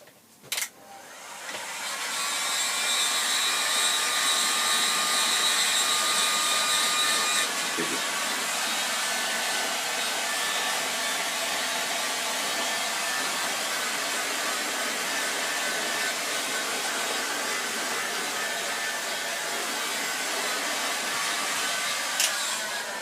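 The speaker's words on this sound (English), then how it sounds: "I'll stick the heat gun on it, give it a bit dry off." Heat gun blowing on a wooden walking stick: a loud, steady whooshing drone starts after a click, runs unbroken for about twenty seconds, and ends with another click.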